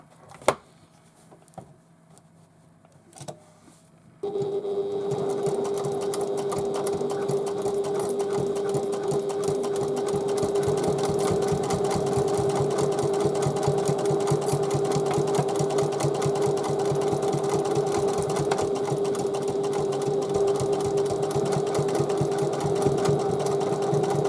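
Sewing machine stitching the side seams of a fabric bag, a loud continuous rapid whirring hum that starts abruptly after a few quiet handling clicks and runs steadily, with no talk.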